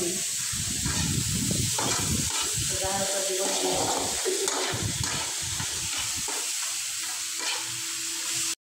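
Chicken intestines and innards sauté for adobo in a pan, hissing and sizzling steadily with occasional stirring clatter, and faint voices in the background.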